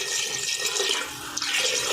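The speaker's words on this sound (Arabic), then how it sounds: "حط له بعد شوي يحتاج مي، ادير له هنا بعد المي" Water pours steadily into a cooking pot of Iraqi mandi, a continuous close splashing rush with a brief dip midway.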